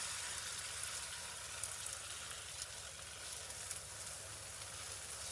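Savoury pancake batter frying in a hot frying pan, a steady, even sizzle with soft crackles and pops, close and quiet, with no talking.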